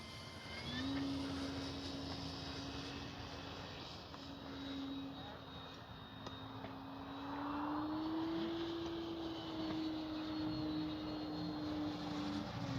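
A Flightline F4U Corsair RC warbird model on a 6S battery flies overhead, its electric motor giving a steady propeller drone that swells and fades slightly as it passes, heard alone without talk.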